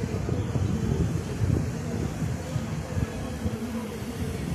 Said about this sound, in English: Very windy, cold wind, but nice and sunny.